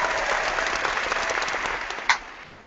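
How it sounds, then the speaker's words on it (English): A small group gives a brief round of applause and cheering, steady dense clapping that fades out at the end, with one sharp louder clap near the close. "they're going to give you another little round of applause too"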